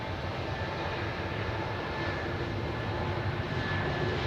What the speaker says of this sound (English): the first Swiss Heavy is also ready for departure